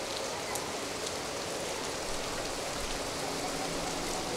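Heavy rain pours steadily in Ludhiana, a dense, even hiss of drops beating on surfaces around a flyover, constant and close with no letup.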